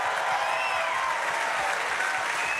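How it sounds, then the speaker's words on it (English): A live-show audience gives a sustained, even round of applause, dense clapping heard from within the crowd, with faint voices underneath. "So I just want to give yourselves a round of applause."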